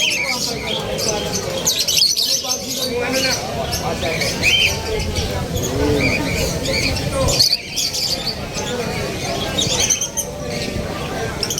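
Small caged birds chirp and squawk in a steady busy chorus at Grotto Pet Market in Bulacan, mixed with a constant hubbub of nearby talk and market bustle throughout.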